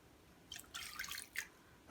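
Water trickles and splashes in short, faint bursts, poured close by onto couscous, with quiet pauses between.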